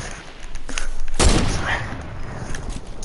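Semi-automatic gunfire in a video game, a sharp loud shot cracking out mid-moment amid faint earlier pops and lingering echoing noise, with a voice talking underneath.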